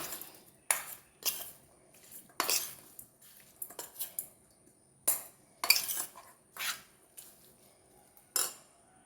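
Chicken being mixed in a pan with heated coriander and chilli, giving sharp metallic scrapes and clinks of a spoon against the pan in irregular bursts, fairly close, with quiet gaps between strokes.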